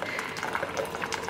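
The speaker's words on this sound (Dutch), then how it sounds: "Dus Haber is hier aan het timen hoe lang het duurt om een pannetje te vullen." An instant hot water tap filling a small pan, a steady, bubbly stream of running water at close range with slight gurgling, no talk heard.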